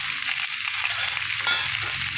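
Cauliflower curry frying and being stirred in a pan, a steady close sizzle with bright crackle and scraping of the spoon through the whole short stretch.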